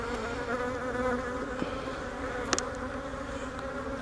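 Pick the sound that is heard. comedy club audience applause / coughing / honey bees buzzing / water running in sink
honey bees buzzing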